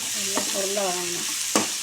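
Sundakai sizzle in a pan as they are sautéed for kara kuzhambu, a steady close hiss of frying running under a couple of brief tonal, voice-like sounds.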